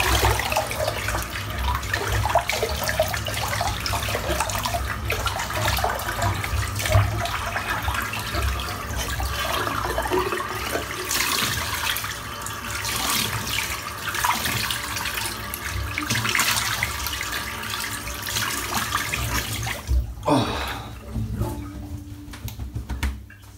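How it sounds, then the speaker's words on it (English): Water runs and gurgles steadily as a bathroom sink drains after wet shaving. The flow stays loud and continuous for about twenty seconds, then drops off sharply near the end. "let's get this sink emptied out"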